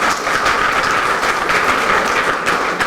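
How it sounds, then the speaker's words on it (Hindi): A gathering of automobile workshop owners at a bike rally event claps vigorously, a loud continuous rattle of hands over a short stretch with no one speaking. "इसके लिए जोरदार तालियां।"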